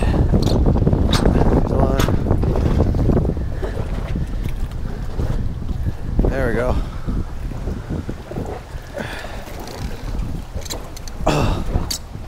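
Strong wind buffets the microphone on a lake, a continuous heavy rumble with gusts, while people talk intermittently beneath it.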